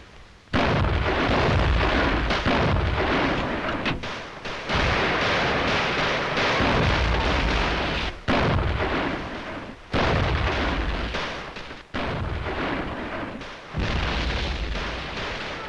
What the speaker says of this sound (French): C'est un de nos canons qui tire sur nous.